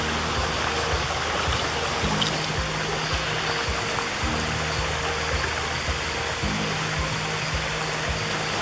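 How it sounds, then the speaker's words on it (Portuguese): Water flows over rocks in a stream crossing on a forest trail to a waterfall in Pedra Branca State Park, Rio de Janeiro, a steady close rushing wash with no talking. "Chegamos ao segundo córrego."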